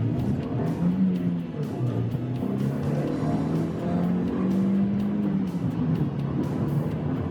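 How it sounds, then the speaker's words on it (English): A Renault Twingo GT engine revs while driving, its steady drone climbing and falling through the gears, heard loud and close from inside the car with road noise underneath. "But she revs cleanly and it keeps going."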